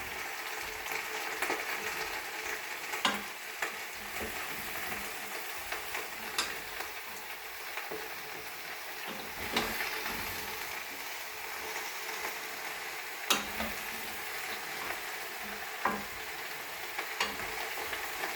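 Vegetables for a vegetable stock searing in the bottom of a stock pot: a steady, moderate sizzle running throughout, punctuated by scattered clicks and knocks of stirring.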